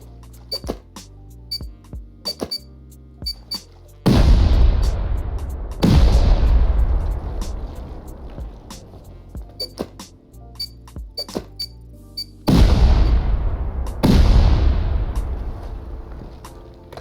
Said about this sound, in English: Start blowing into the first floor of the external.